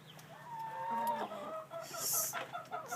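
Backyard chickens, including young ones, make soft, close clucks and short murmuring calls around a nipple watering system, quiet and varied over a few seconds.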